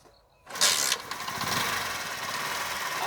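A motorcycle engine cranks and catches after a quiet moment, then settles into a steady, fairly loud running idle close by.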